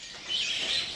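Songbirds chirp in a brief, bright burst of high tweets at the Pramuka bird market in Jakarta, fairly close and with no talking.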